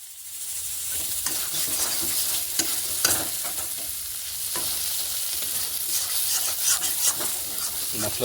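Onion, garlic, chilli and ginger-garlic masala paste fry in oil in a pan, a close, continuous sizzle broken by scraping stirs at irregular intervals.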